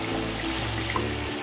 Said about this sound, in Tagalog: Maglalagay din ako ng konting tubig.